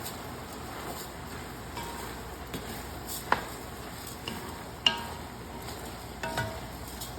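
Rice and olives being stirred in a pot for yellow rice with smoked ham, a soft scraping, sizzling texture with a few sharp utensil knocks against the pot, close and steady with no talk.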